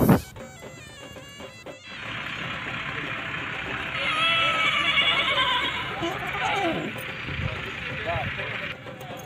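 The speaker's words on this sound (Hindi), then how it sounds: "ਚਿੱਟੇ ਰੰਗਾਂ ਦਾ ਘੋੜਾ ਬਹੁਤ ਵੀ ਸੋਹਣਾ" A white horse at a tent-pegging mela in Dadyal, Azad Kashmir, gives a long whinny amid crowd noise and voices at the outdoor event.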